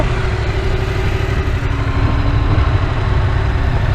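Loud, steady rumble of a motorcycle engine running close by, holding a fairly constant throttle with a slight rise in intensity toward the end.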